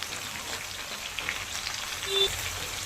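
Drumstick leaves (murungai keerai) with curry leaves sautéing in a pan over medium heat, giving a steady, soft crackling sizzle that stays fairly even throughout, with no voices.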